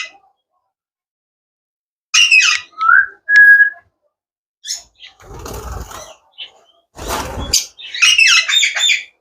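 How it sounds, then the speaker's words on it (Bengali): Pet myna birds at a bird shop give bursts of squawks and sharp whistles, some loud and close, with short gaps of silence between calls. "ময়না পাখি, ক্যামেরা থাকলে কথা বলেন"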